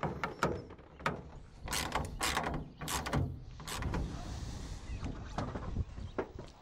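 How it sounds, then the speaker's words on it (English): A tonneau cover clamp being fitted and tightened at a pickup bed rail near the hinge, heard as close metallic clicks, ratcheting taps and scraping handling noises in an irregular sequence with no speech. "Place a second clamp as close to the hinge as possible."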